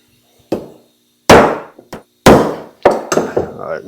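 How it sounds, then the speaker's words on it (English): Several sharp taps with a small hammer on a small metal part of an Edelbrock carburetor during a rebuild, irregularly spaced with short ringing decays and quiet gaps between strikes. "I'll take a little hammer and find a little hammer, and I'll tap that down"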